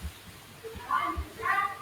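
A cat meows twice in short, clear calls, the second slightly longer, with faint low thumps underneath.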